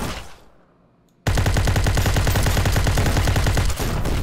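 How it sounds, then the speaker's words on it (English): Sustained rapid automatic gunfire in the video game Ancient Warfare 3 during an amphibious beach assault, loud and close, bursting in after a quiet moment and rattling continuously with no talk. "Oh, we're getting shot at."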